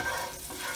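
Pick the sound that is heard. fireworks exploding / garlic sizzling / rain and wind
garlic sizzling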